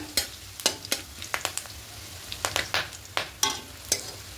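Whole garam masala of cinnamon, cardamom and cloves frying in oil, with a soft background sizzle under close, irregular scraping stirs of a spoon against the pan, and no voices.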